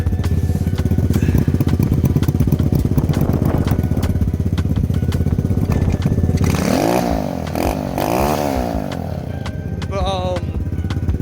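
Lifan KP Mini 300 motorcycle with a swapped ZS175FMN 4-valve engine, smoky and due for service, idles and revs steadily up close, a loud continuous rumble with a few throttle blips and clatter toward the end.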